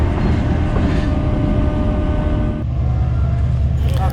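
Idling GEU40 diesel locomotive at the head of the Shalimar Express, a steady low rumbling drone with a faint whine, continuous and fairly loud throughout with no talk.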